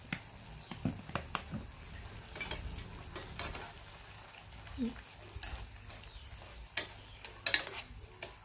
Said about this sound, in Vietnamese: Các bạn xào nó lên nha